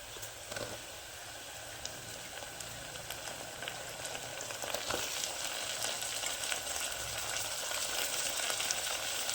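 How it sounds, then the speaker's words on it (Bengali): Tomato frying lightly with onion, garlic and ginger in a pan in a village kitchen: a continuous close hiss of sizzling that swells slightly in the second half, with a few faint clicks and no talking. "হালকা ভাজা হচ্ছে, তার মধ্যে আমি টমেটোটা দিয়ে দিচ্ছি"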